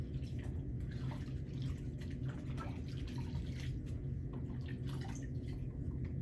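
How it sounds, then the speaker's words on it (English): Water sloshing and dripping in a basin as soap is rinsed off a foot during foot care, with scattered soft splashes and trickles over a quiet, steady room background. "I'm going to put the foot back into the water and rinse the soap off."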